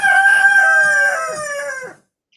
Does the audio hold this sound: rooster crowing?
yes